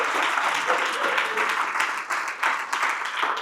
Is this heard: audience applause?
yes